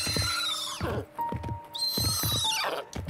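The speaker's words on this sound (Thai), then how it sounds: "ผมเจอม้าพอดีด้วย" A horse in the video game Mission Evo neighs twice in loud, close whinnies, each a high wavering cry falling away, with soft hoof thuds between.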